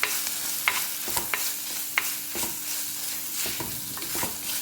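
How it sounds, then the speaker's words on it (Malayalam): Crushed ginger, garlic and curry leaves fry in a pan with a steady close sizzle, broken by repeated scraping stirs of a spoon against the pan. "ഇനി നമുക്ക് ചതച്ച് വെച്ചിരുന്ന ഇഞ്ചി വെളുത്തുള്ളി ഇടാം."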